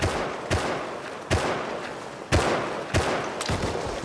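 Gunfire in the video game Rust, about six sharp shots at irregular intervals, each followed by a long rolling tail, with no talking.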